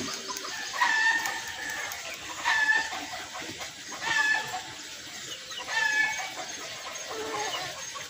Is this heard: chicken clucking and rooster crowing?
yes